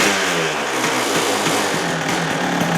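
Kawasaki KDX220 two-stroke trail bike engine, stock and fairly quiet, revving close by in a short burst with a buzzy, rising-and-falling tone.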